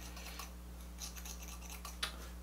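Scissors snipping hair during a self-cut two-block haircut at home, giving a few soft, close crisp snips over a steady low background hum, with no talking.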